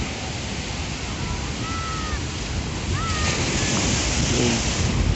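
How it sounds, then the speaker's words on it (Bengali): Large sea waves crash continuously on Kuakata beach in Patuakhali, making a loud, constant roar with wind buffeting and faint distant voices. "শো শো করছে পানির শব্দ"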